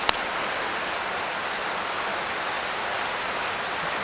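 Steady, dense rain pours down during Typhoon Carina amid street flooding, a constant close hiss with no letup and no voices.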